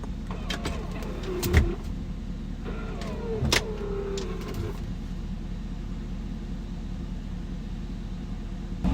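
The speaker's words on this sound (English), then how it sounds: "These buttons control the seat folding in the back." Electric motor whir and clunks of the power-folding third-row seats in a 2007 Cadillac Escalade ESV, a couple of short motorized runs with mechanical thumps, fairly quiet inside the cabin.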